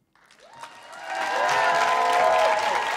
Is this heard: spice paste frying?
no